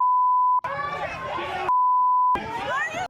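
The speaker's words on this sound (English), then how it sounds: "I almost heard the sound of the video over those beeps." Two steady, high-pitched censor beeps, one near the start and one midway, alternating with loud, busy crowd chatter at a political rally.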